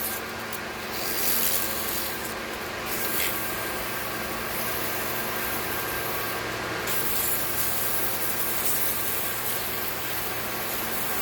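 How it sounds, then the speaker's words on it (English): Steady, continuous rasping of sandpaper rubbed over a waxed oak cane, close and even, with a few brief brighter scratchy strokes and no talking. "as soon as that sandpaper touches the wax, it loads it up."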